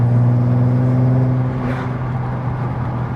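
Stage 2 VW Golf R32 MKV with manual gearbox, its engine and exhaust giving a loud, deep droning hum heard close up, steady then easing slightly as the revs settle.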